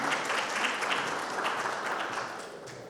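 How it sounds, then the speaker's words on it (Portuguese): An audience applauds to welcome João Souza, a planning engineer presenting on technological innovation in assembling and replacing yard machinery, with dense, steady clapping from a crowd that fades slightly toward the end. "Uma salva de palmas para o João"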